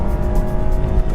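A 2014 Volkswagen Tiguan 4Motion accelerates hard under boost, its engine a loud, steady, continuous roar with no voices over it.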